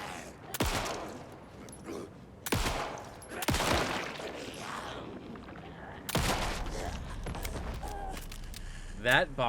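Gunfire from the video game Alan Wake 2, sharp shots that come singly and in short bursts amid game ambience, with a voice speaking between them.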